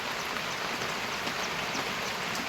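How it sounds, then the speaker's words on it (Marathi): Steady monsoon rain pours down without a break, a dense, even hiss of drops hitting surfaces close by, with no voices. "पावसाचं आगमन झालेलं आहे."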